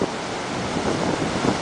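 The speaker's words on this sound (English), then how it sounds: "watching the waves crash" Ocean waves crash and wash over the rocks at Playa Las Peñas, Mexico, a steady broad roar of surf with wind buffeting the microphone, close and loud without any talking.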